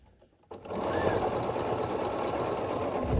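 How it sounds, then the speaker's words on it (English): A sewing machine starts up and runs steadily, stitching a quilt block's petal unit with a quarter-inch seam, a close, even mechanical whirr after a brief quiet start. "sew this together with a 1/4 inch seam"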